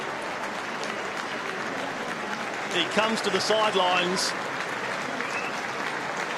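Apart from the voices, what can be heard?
applause from fans for injured player leaving the field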